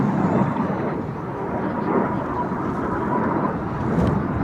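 Red Arrows jets fly an opposition barrel roll at an air display, a broad continuous roar of jet engines that swells and fades slightly over a few seconds, with no clear talk.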